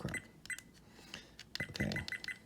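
A new dashboard camera's beep tone sounds during its settings setup: a run of short, bright electronic beeps, several in quick succession near the end, close by with light handling noise and no speech.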